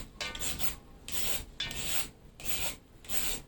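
A handheld papaya shredder rasps against a green papaya in five steady strokes, each a bright scraping burst separated by short pauses, close and alone.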